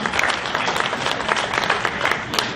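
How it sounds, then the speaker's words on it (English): Dense applause from an auditorium crowd honoring the finalists of a Kansas auctioneer championship, steady and sustained from start to finish with no talking. "Please give all of our finalists a great big round of applause"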